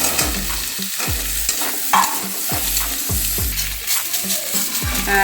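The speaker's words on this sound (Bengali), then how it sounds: "এই তেলে আমি আলু কুমড়োটা ভালো করে ভেজে নেব" Potato and pumpkin pieces fry in hot oil in a pan, a steady loud sizzle broken by repeated scraping stirs of a spatula, with no talking.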